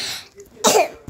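A single cough bursts out near the microphone, loud and rough, followed by a short faint catch of breath, after a quiet lead-in with no talking.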